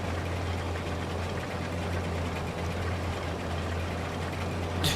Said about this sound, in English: John Deere 4020, that is a good tractor.